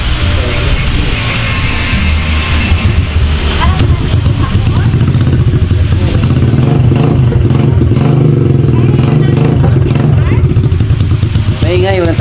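A Honda XRM motorcycle engine with no exhaust muffler runs loud and steady close by, with a constant rough drone and clatter throughout, while someone talks over it.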